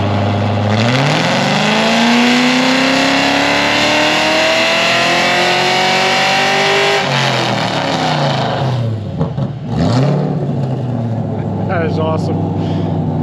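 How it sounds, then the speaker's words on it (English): A Pontiac GTO's engine revs hard through a dyno pull, loud and close, with a long rising engine tone that climbs, drops sharply, then surges again before easing off near the end. "let's watch some dyno action."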